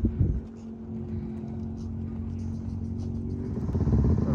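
A dirt bike engine idles and rumbles steadily nearby at the Glamis dunes at sunset, rising slightly in revs toward the end.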